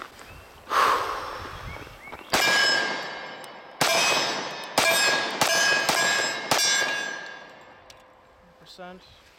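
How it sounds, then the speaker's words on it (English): A Dan Wesson Vigil 1911 pistol fires Speer Gold Dot carry rounds, about six sharp, loud reports at uneven intervals, each followed by a metallic ringing decay. "Let's shoot the Spear gold dots first. Alright, first rounds as far as carry ammo through this gun."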